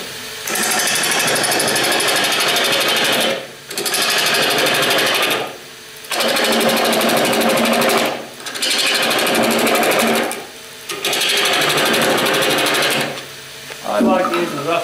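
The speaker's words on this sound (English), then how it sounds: "I like using the roughing gouge." A roughing gouge cuts a multi-centre wooden goblet spinning on a wood lathe, a loud, steady broadband shearing roar in long passes broken by four short pauses, with a brief softer scrape at the end.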